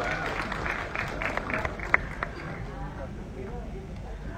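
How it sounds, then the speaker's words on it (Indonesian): Applause from an audience at the premiere of the film "Mumun": a fairly soft, continuous patter of clapping with crowd murmur and a couple of sharper claps near the middle. "Boleh kita berikan tepuk tangan juga yang paling meriah untuk Roman Humagio."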